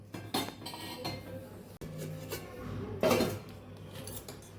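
A metal lid clatters onto a pot of hot oil and asafoetida, with a few light clinks, then a louder clank of the lid settling into place, close and alone.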